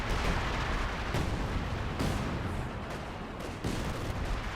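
An artillery barrage in the strategy game Company of Heroes 2 rumbles on continuously, loud and heavy, with overlapping booming shots and blasts and no break in the roar.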